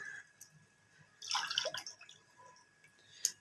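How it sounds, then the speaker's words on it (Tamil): Water splashes into a cup for making dry ginger and coriander coffee, a short burst of pouring and dripping close by, with faint clinks before and after. "நாம் 1 கப்பு தண்ணி எடுத்துக்கணும்."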